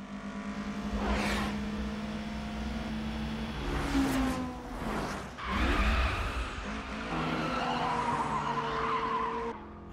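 Tires squealing as a car drifts through a corner in Initial D, with long sliding screeches over a revving engine, loud and sustained with a brief dip partway through.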